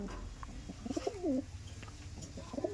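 Andhra pigeons cooing nearby, a couple of soft throaty rolling coos with faint rustling and other birds in the background, no voices.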